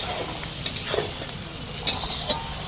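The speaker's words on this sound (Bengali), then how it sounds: "আস্তে আস্তে কড়াইশুঁটিগুলো ভাজা হবে" Green peas frying in a pan with cashews and raisins give a steady, fairly quiet sizzle, broken by a few short scrapes of a ladle stirring them, and no one speaks.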